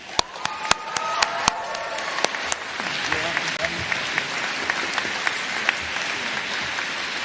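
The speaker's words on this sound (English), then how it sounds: "So everybody, round of applause for him." A room full of people at a university commencement ceremony breaks into applause, a few sharp claps at first, then sustained clapping from a crowd.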